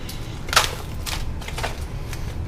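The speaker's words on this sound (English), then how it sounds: "Got my scissors, slicing this thing open." Scissors slice open a plastic meat package with a few quick crisp snips and crackles up close, followed by softer rustling.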